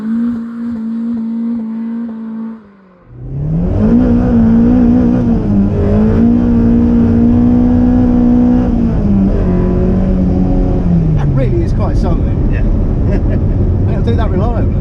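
A modified Mini road car engine idles, cuts out briefly, then roars up loud and close as it pulls away, holding a steady revving drone with shifts in pitch as it drives along the road.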